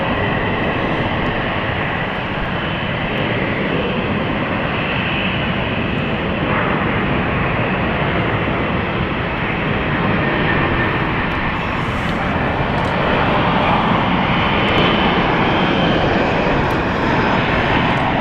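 An ITA Airways jet arriving at London City, inbound from Milan, gives a continuous near engine roar and broad airflow rush that builds slightly toward the end, with no clear talk over it.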